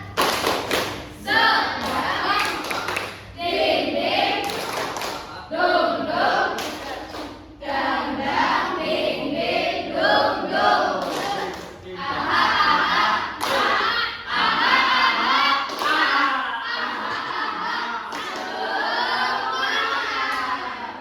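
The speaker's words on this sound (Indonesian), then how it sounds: "Tepuk semangat" A school class does a rhythmic spirit clap together, with bursts of patterned group clapping, stamping and children chanting in unison, separated by short pauses.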